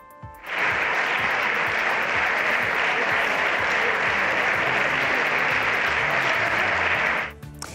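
Socialist benches in the Spanish parliament give Pedro Sánchez a sustained ovation, a loud, dense wall of clapping that swells in abruptly, holds steady and then cuts off.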